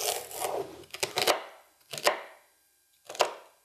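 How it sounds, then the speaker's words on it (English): A knife chops celery on a board in a few quick close bursts: a cluster of rapid strokes, then two separate single chops after pauses. "And I'll chop up the celery."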